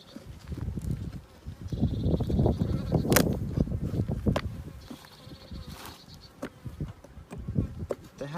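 Honeybees buzzing from an opened beehive during an early-season inspection, a dense, steady hum close up that swells and fades, with occasional sharp scraping taps.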